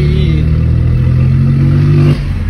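A Volkswagen Up TSI with its stock exhaust hums with a loud, close engine drone at steady revs that drops off abruptly near the end.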